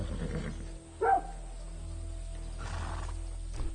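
A horse in the video game Far Cry 6 lets out a short, sharp whinny about a second in, rising briefly above a steady low game hum, with no one talking.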